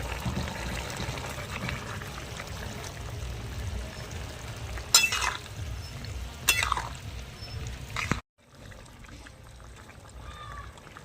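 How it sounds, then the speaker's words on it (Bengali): Water poured into a pan of poppy seed paste while cooking a vegetarian dish, a steady close wash of pouring and sizzling with a couple of sharp clinks before the sound cuts off abruptly, followed by quieter kitchen hiss. "অল্প একটু জল দেবো, পোস্ত ধোয়া আছে শিল ধোয়া, জলটা দিয়ে দিচ্ছি।"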